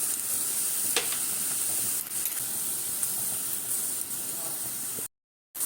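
Shrimp fry in a pan for stuffed pointed gourd dolma, alongside the gourd's inner pulp, potato and tomato, with a steady, close sizzling hiss and a few sharper crackles before the sound cuts out briefly near the end.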